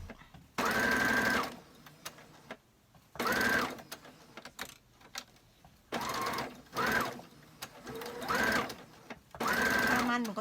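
A sewing machine stitches short curtain fabric in bursts of close, steady whirring, each run lasting one to two seconds with pauses between, while someone talks in the gaps.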